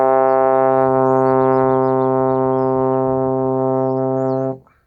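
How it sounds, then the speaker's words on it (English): One low, steady tuba note is sustained for about four and a half seconds, a full and even brass tone that stops abruptly, with faint chirping high in the background. "Now for tuba, it's going to sound like this."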